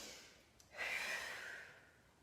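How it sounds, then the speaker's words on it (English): Breathing during wall press-ups: a single long, airy exhale close to the mic, rising sharply and tapering off slowly, with a quick sharp intake at the very end. "So you're breathing out as you push down and in as you come back."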